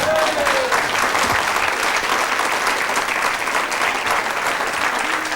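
A studio audience at a cooking show claps in a continuous, even burst of applause that stays loud throughout.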